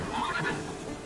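Roach the horse in The Witcher 3 gives a single loud, close neigh, a wavering whinny that rises and falls over about a second against a busy game soundscape.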